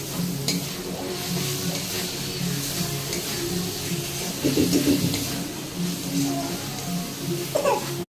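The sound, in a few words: tomatoes added to a frying pan, sizzling and stirring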